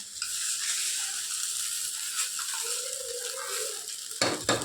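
Peanuts frying in oil in a home kitchen, with a continuous sizzle and a few stirring scrapes, and a sharper clatter of utensils near the end; no one speaks.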